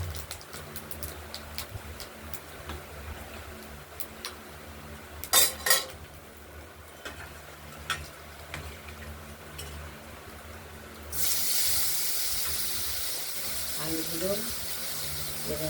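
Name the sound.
frying potatoes with spice tempering in pan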